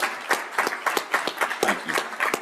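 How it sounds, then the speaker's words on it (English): Sparse applause from a small audience at a board of governors midyear meeting, individual claps distinct and uneven, moderately close, with no voices over it. "Let's give them a round of applause."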